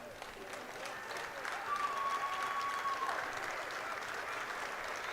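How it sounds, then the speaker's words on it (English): Teammates at an arena football game between the Tampa Bay Tornadoes and Charlotte Thunder applaud as an injured player leaves the field, a moderate, distant clapping that swells midway over crowd murmur, with a whistle tone briefly audible. "Applause from his teammates as he's going off."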